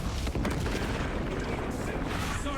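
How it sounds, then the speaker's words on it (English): A melta bomb detonates in the Space Marine video game: a loud, continuous booming roar with heavy low rumble, close and dense throughout the short moment. "Melta bomb prime."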